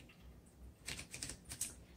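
A 1930 Corona Sterling vintage manual typewriter being typed on: a quick burst of about half a dozen sharp, crisp key strikes, quiet and close, with faint room noise before it.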